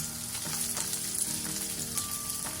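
Mustard seeds, dried and green chillies, onion and ginger sautéing in hot oil for arisi uppuma, a continuous bright crackling sizzle with occasional stirring scrapes, moderately loud and without speech.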